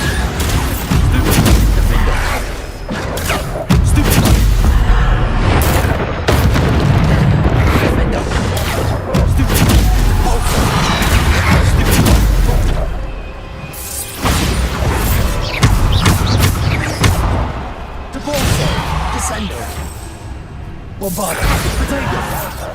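Bombarda spell explosions in Hogwarts Legacy erupt as booming blasts and whooshes, dense and loud throughout, layered with combat clatter and a voice calling out spell names.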